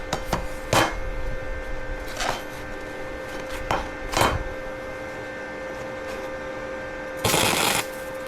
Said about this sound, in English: So we're going to do quick tack weld.